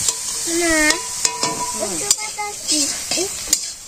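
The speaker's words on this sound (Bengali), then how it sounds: "পেঁয়াজ রসুন ভাজা হয়েছে" Steady sizzle of onion and garlic frying in a hot pan with occasional stirring clatters, while people's voices chatter over it.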